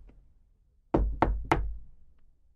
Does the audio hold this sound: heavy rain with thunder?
no